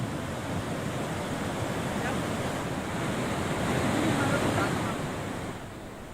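Water pours from nine opened dam gates, releasing around 6700 cusecs during heavy monsoon rain, a steady, dense roar of rushing water that stays loud and unbroken throughout, with a gentle swell near the end.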